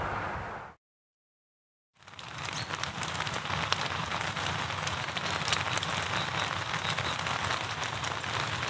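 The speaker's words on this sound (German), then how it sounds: "Es regnet den ganzen Tag ohne Unterbrechung." Steady winter rain in northern Germany patters densely on a surface, a constant hiss of drops after a brief moment of silence near the start.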